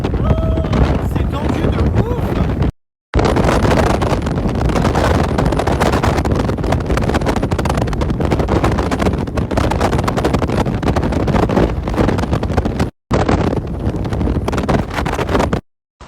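Strong wind on a road in Hurghada, Egypt, roars and buffets the microphone in a loud, continuous rumble, broken only by two brief dropouts.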